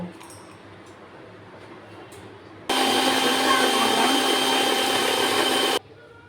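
An electric mixer grinds chili, tomato, ginger and cumin into a paste: after a quiet stretch the motor kicks in abruptly with a loud, steady whirring roar for about three seconds, then cuts off sharply.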